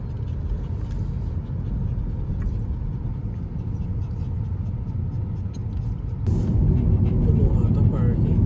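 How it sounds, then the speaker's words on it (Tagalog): Steady low engine rumble of a car moving through road traffic, continuous and close, growing a little louder near the end, with people talking faintly over it. "Traffic sa Bumarapis."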